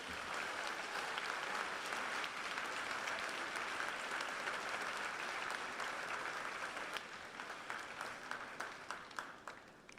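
A school senior awards assembly audience claps for honoured students in sustained, even applause that carries on for about seven seconds before gradually thinning near the end; it is fairly quiet overall.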